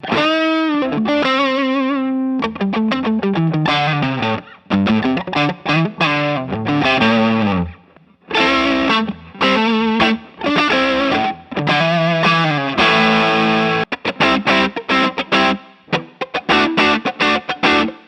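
Electric guitar through an Ibanez TS10 Tube Screamer overdrive, a warm, thick distorted tone in chords and quick picked riffs, loud and close, with short gaps between phrases.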